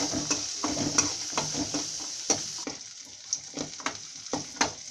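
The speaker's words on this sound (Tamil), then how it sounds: "இப்போ தேங்காயும் நமக்கு கொஞ்சம் வதங்கணும், இதோட வதக்கிடலாம்." Coconut sautés in a pan with green chili and tamarind for chutney, giving a soft, steady sizzle. A spatula scrapes and stirs against the pan in irregular strokes, close by and moderately quiet, with no talking.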